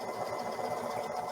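A sewing machine stitches a quarter-inch seam while making a dice pouch, a steady continuous whir running close and even throughout with no pauses.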